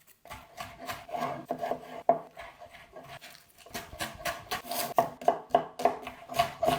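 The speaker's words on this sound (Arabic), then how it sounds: "أول شي بنقطع شوية خضرة مثل البندورة، بصل، فلفل، ثوم، كزبرة والبقدونس" Tomato, onion, pepper, garlic, coriander and parsley being chopped on a board for stuffed grape leaves, a close run of rasping knife strokes that settles into a steady rhythm of distinct cuts.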